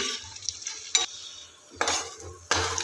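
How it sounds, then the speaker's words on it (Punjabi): Ingredients roast and stir in a hot pan on a gas stove: rustling, scraping strokes with soft sizzling, arriving in short bursts separated by brief quieter gaps, close and moderately loud, with no talking. "ਆਪਾਂ ਇਹਨੂੰ ਬਸ 2 ਮਿੰਟ ਭੁੰਨਾਂਗੇ ਜਿੰਨਾ ਚਿਰ ਇਹਨਾਂ ਥੋੜਾ ਜਿਹਾ ਹਲਕਾ ਜਿਹਾ ਰੰਗ ਚੇਂਜ ਹੋ ਜਾਂਦਾ"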